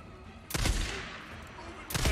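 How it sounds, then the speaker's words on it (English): Gunfire in the video game Days Gone, two sharp bursts of loud shots separated by over a second, with a low rumbling background between them. "Guy's shooting well."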